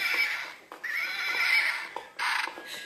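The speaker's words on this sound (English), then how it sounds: "You're probably wondering why I'm riding on a horse." A horse neighs and whinnies repeatedly while being ridden, the calls loud and close with short breaks between them.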